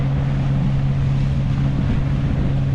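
A sailboat's engine running at sea, a steady low droning hum with wind noise over the microphone, constant and close with no talk.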